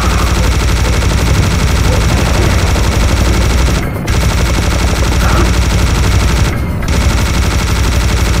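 Heavy, relentless gunfire in Serious Sam: The First Encounter, a loud and continuous machine-gun stream that runs for about eight seconds and dips briefly twice.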